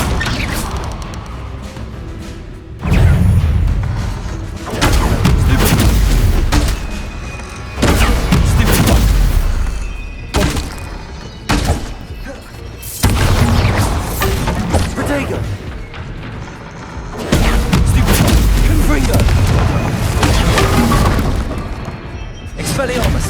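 Repeated blasts from Bombarda and Confringo spells in Hogwarts Legacy boom and shatter in loud, heavy bursts separated by short pauses, with a voice speaking between and over them.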